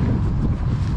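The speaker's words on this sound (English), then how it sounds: "Don't know where you can hear me over this wind." Strong, steady wind buffets the microphone beside a river during pike fishing in East Sussex, a loud continuous low roar filling the whole stretch without pause.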